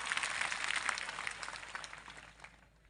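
Crowd applauding at a political rally for a tribal party in Dungarpur, a dense, loud burst of clapping that fills the clip and fades toward the end, with no talk over it.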